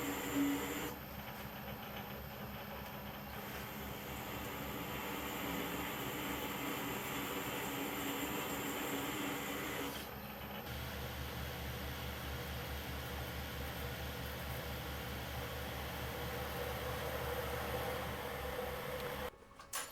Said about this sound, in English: A shallow groove is cut to facilitate the following knurling operation.